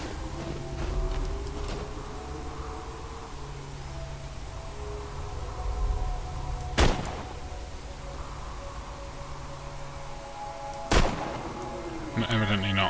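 Gunfire in the video game Borderlands 2, with two sharp, loud single shots several seconds apart over a low droning game ambience and a brief rattle at the end.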